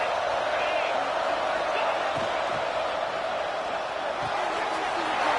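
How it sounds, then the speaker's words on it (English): Stadium crowd at a college football game between UGA and LSU late in the fourth quarter, a steady dense roar of many voices with occasional thumps, continuous and fairly loud throughout. "Listen to this crowd begging its defense to get a stop."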